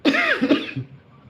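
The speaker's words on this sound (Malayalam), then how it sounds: "ചുമ തുടങ്ങിയ" One hoarse, voiced cough rings out up close and fairly loud, then fades into quiet.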